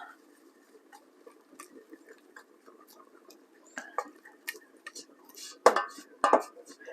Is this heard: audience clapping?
no